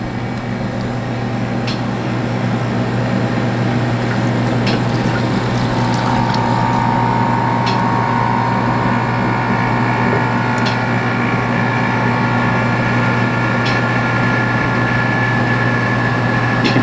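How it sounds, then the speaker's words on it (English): A lab vacuum pump hums steadily with a strong low drone while liquid is poured into a Buchner funnel for vacuum filtration, with faint trickling and occasional small clicks above the constant motor noise. "First I'll turn on my vacuum pump."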